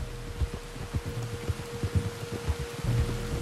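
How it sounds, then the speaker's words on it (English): Steady rain hisses in Red Dead Redemption 2, a broad even wash with soft low thumps pulsing underneath, continuous and moderately loud with no voices. "You were right about the damn rain."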